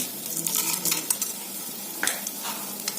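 Chana dal and urad dal hit hot oil with popped mustard seeds, crackling and sizzling up close with bright spattering bursts and light clinks of a spoon against the pan.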